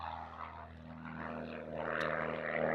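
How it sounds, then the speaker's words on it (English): A small propeller plane takes off from an outback property along the Savannah Way, its engine droning steadily at a distance and swelling slightly louder toward the end. "So they get planes stop in for morning tea and afternoon tea."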